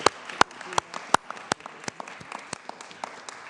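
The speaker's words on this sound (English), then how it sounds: "Can we give all our funders a round of applause?" Scattered applause from an audience at the Age-Friendly Columbus kick-off event, several loud individual claps standing out sharply above a softer, uneven patter of hands.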